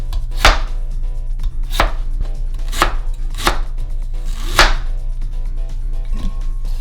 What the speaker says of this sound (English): This about 1 inch of the galanga.